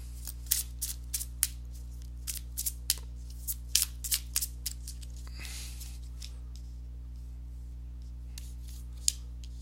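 Tarot cards being shuffled and handled, giving a string of short, crisp snaps and riffles at close range over a steady low hum, with a brief softer rustle in the middle and no talking.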